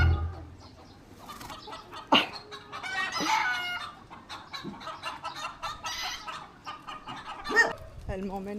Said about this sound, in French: La grosse poule,